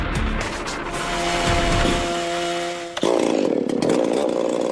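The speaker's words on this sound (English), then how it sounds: "With chainsaw in hand, a skilled logger will take down a tree, like this western hemlock, in about 30 seconds" A chainsaw bites into a western hemlock during tree felling, its engine droning loud and close with a steady whine, then dropping and shifting pitch abruptly as the cut changes partway through.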